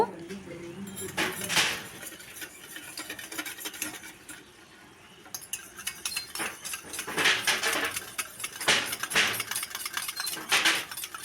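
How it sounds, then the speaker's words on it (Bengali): A whisk or spoon scrapes and clinks quickly against a bowl, beating sour curd (yogurt) in bursts of rhythmic stirring separated by short pauses. "একটু ফেটিয়ে নেব।"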